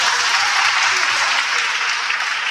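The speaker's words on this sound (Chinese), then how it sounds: "有举手给他掌声鼓励。" A live stand-up comedy audience breaks into steady, dense applause that fills the whole moment at an even level, a broad wash of clapping with no talk over it.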